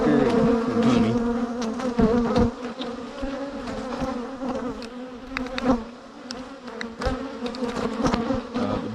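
Agitated honey bees buzz loudly and continuously around an open hive during splitting, a dense close swarm drone with individual bees zipping past.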